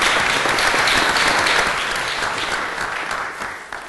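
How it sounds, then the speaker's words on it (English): Audience applause welcoming a speaker at a conference on colorectal cancer prevention, a dense steady clapping that runs the whole time and slowly thins and fades toward the end, with no voices over it. "I would like to ask the audience a warm welcome and an applause for Yola"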